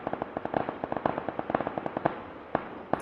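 Rapid gunfire from an M249 light machine gun in a video game, heard as a steady stream of sharp cracks with a few louder shots standing out, somewhat distant and without talk.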